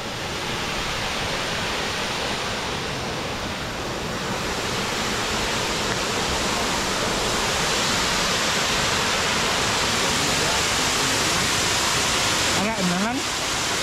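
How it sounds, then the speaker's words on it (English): Lusno Falls in Cebu, a waterfall, roars as a steady, loud, broadband rush that fills the whole scene without letup. A brief whistle-like tone rises near the end. "Wow. Lusno falls."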